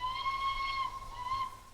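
A steam locomotive's high toot whistle on the Flying Scotsman in Train Simulator gives two short, clear, bright blasts with a faint hiss of steam behind them.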